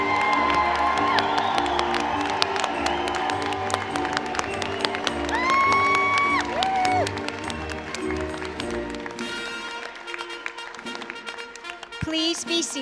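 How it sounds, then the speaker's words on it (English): An audience at a college of pharmacy white coat ceremony cheers for its students, a steady roar of voices, whoops and clapping that gradually thins out near the end. "Let's cheer for all of our students"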